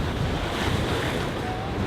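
Ocean waves wash steadily past a sailboat under constant wind, with wind buffeting the microphone near St. Lucia at the end of a 17-day ocean crossing; a loud, continuous roar with no voices.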